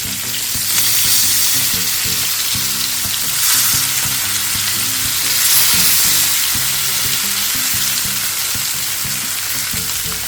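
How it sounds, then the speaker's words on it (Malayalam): Fish pieces fry in oil in a pan over a medium flame for a Kerala-style fish roast, a loud, continuous crackling sizzle with a rhythmic bubbling pattern, heard close with no talk. "മീഡിയം ഫ്ലെയിമിലിട്ട് ഫ്രൈ ചെയ്താൽ മതി. ഇനി മീൻ തിരിച്ചിടാം."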